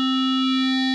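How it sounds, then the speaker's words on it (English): A steady, buzzing Kontour synthesizer oscillator tone thick with bright harmonics, driven through a wavefolder into foldback distortion, forming a rich, gritty drone that holds constant throughout. "as we add the drive, we can see and hear some distortion happening and some foldback as well"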